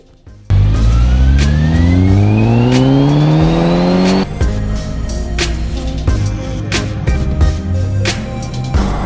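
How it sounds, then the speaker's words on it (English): A Mk5 Golf GTI on a dyno at a tuning shop during a Stage 2 remap, engine revving up in one long rising pull, loud and close, then dropping to a rougher, uneven idle with pops. "cut to some footage at EcoTune of the car on the dyno and getting the remap"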